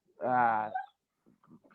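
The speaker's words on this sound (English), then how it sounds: "Excuse the dogs again. They're right. doing what they do." Dogs indoors give a drawn-out, whining whimper that is loud and close, then fade to a few faint, scattered whines.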